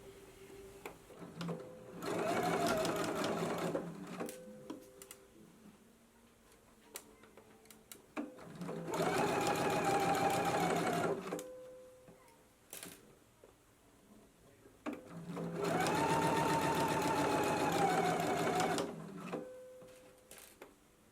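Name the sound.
sewing machine stitching bias tape seam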